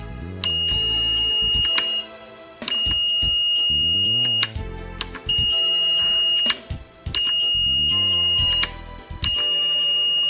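A multimeter set to continuity beeps in long steady tones while its leads are held on the back of a Sega Dreamcast power switch connector, with four sustained beeps broken by brief gaps and clicks as contact is made and lost.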